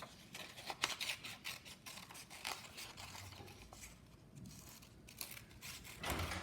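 Scissors snip through a paper fossil cutout, giving a run of close, crisp cutting strokes and rustling paper with no talk.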